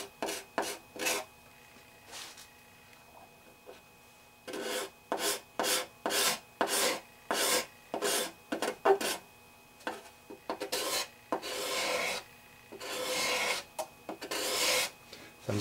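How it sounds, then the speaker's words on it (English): Hand scraping of the binding on an acoustic guitar body, rhythmic raspy strokes in short bursts with brief pauses, close and clear, no talking. "So I'll start scraping the binding."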